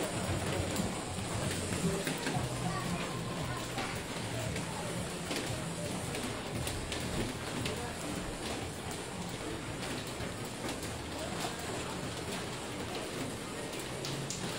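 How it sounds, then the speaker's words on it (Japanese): Heavy rain pours steadily over the streets of Jiufen, Taiwan, a dense, constant hiss and patter that stays loud throughout, with occasional voices beneath it. "すげえ雨。"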